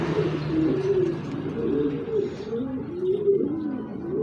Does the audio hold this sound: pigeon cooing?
yes